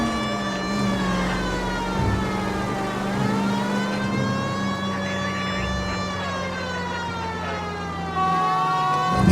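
Loud, steady wailing of a police siren from L.A. Noire, sweeping slowly up and down in pitch, with an engine rumbling underneath and nobody speaking.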